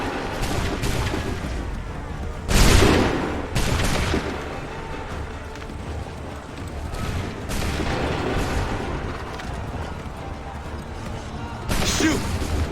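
Several booming musket volleys and crashing shots ring out in the Assassin's Creed III battle, with loud bursts near the start, middle and end over a steady rumble of combat noise.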